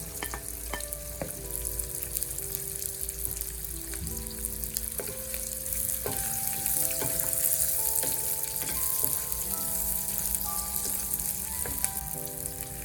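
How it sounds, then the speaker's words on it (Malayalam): Onion, ginger and garlic sauté in hot oil for a brinjal curry, a steady close crackling sizzle throughout, overlaid by repeated clinks and scrapes of a spoon stirring the pan. "ആ ഓയിലിൽ നമുക്ക് സബോള ഇട്ട് ഒന്ന് വഴട്ടാം കഴുകി വെച്ചിരിക്കുന്ന ഇഞ്ചിയും വെളുത്തുള്ളിയും ചേർക്കുന്നു"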